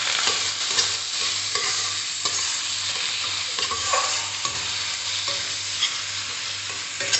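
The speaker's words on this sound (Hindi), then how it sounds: "खाली प्याज को हमको अच्छे तरह से फ्राई करना है।" Onions frying in a pan for a simple curry, a steady close sizzle that runs without a break, with intermittent scraping and stirring clatter from a utensil throughout.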